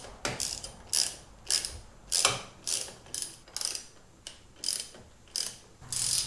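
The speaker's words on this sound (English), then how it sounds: "we're going to want to take the top clamp bolts out and remove the speedometer" Ratchet wrench loosening the top clamp bolts on Harley-Davidson handlebars during a T-bar install, sharp rapid clicking bursts repeating roughly every half second to second, close and crisp with quiet gaps between strokes and no talking.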